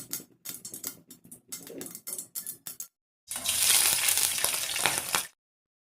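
Mustard seeds dropped into hot oil in a heavy-bottomed pan give a run of sharp, irregular pops, then a brief pause before a loud, sustained sizzle that cuts off abruptly.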